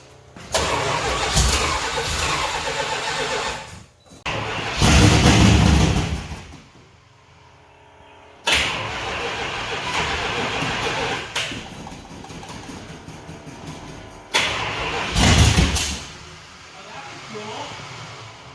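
A car's freshly swapped 400 engine cranks and catches, then roars through several loud revving bursts with brief lulls, while voices talk nearby.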